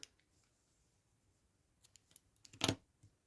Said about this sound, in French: On va aller couper suffisamment de laine pour pouvoir faire la couture.